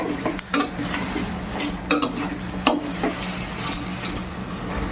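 Spiced chicken being stirred and sautéed in a pan, with soft sizzling under repeated scraping and knocking of a utensil against the pan at an irregular pace.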